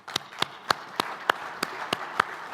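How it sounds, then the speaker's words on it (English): An audience claps at a trade update event after a speaker is introduced, a sparse scattering of separate sharp hand claps in an uneven rhythm, fairly close and moderately loud, with no voices. "So please, nice round of applause for Jim Sutter."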